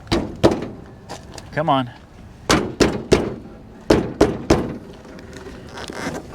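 Repeated thunks and metal bangs from someone working at the stuck hood of a RAM 2500 HD truck, a former police vehicle with possible fire damage, arriving in bursts of several sharp knocks with a brief spoken remark between them.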